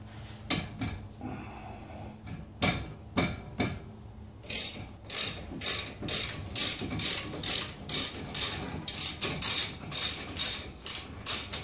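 A hand ratchet loosens the brake caliper bolts in rapid bursts of clicking, close and crisp, with a few heavier turns at first and then a steady run of regular back-and-forth ratcheting strokes.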